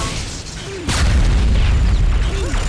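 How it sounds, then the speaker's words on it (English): Heavy rocket explosions in a Quake duel match, a loud booming blast arriving near the one-second mark and rumbling on continuously over game noise. "Rockets coming in by Reflex"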